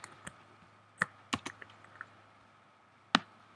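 Keys on a computer keyboard are struck in a handful of sparse, sharp clicks, close and distinct against near silence, with no voices.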